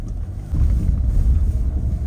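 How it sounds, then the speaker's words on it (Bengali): Strong wind sweeps outside in a Kinnaur mountain valley, heard as a close, heavy low buffeting against the microphone that swells louder after a brief quieter moment. "বাইরে প্রচন্ড হাওয়া দিচ্ছে"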